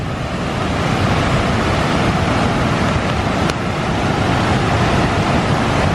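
Rushing water beside an old iron furnace roars in a loud, unbroken wash of noise, close by and steady throughout.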